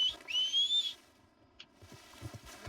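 A player whistles for a horse in Red Dead Redemption 2: two clear, rising whistles up front, then quiet game ambience with a brief chirp and soft thuds.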